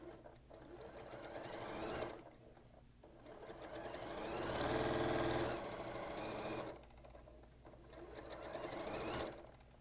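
A sewing machine stitches quilt pieces together in bursts, its motor whirring and needle chattering close by, speeding up and slowing with brief pauses between seams.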